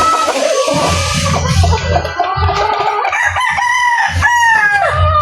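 A rooster crows loudly and close by, its long call rising and falling over about five seconds, with clucking and other fowl sounds mixed in and a steady background din.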